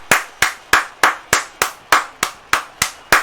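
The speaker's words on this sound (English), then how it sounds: "So round of applause." Steady, evenly spaced hand claps, about eleven sharp claps in a regular rhythm, loud and close, with no talking.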